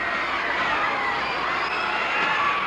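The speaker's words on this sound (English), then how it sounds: "The crowd are going wild here." A Memphis wrestling crowd roars in a dense, continuous wall of cheering and shouting that holds steady and loud throughout, with no individual voice standing out.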